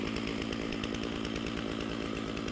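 A Stihl MS660 chainsaw runs steadily at high revs, a loud, close, buzzing engine drone that holds constant without breaks and with no talk over it.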